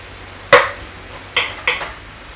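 Beef being stir-fried for a Chinese curry, tossed around a pan with utensil scrapes: three short metallic clinks and scrapes, close and fairly clear, with no talking.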